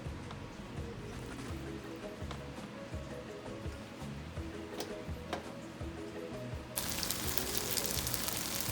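Chicken pieces for teriyaki fry in a pan with a steady, crackling sizzle that runs throughout, scattered small pops, then a sudden brighter, louder hiss near the end.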